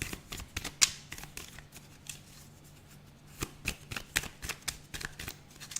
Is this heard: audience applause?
no